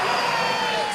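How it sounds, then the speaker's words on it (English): A darts arena crowd at a Masters semi-final hums with a steady, loud murmur of many voices. "The crowd are starting to buzz a bit now"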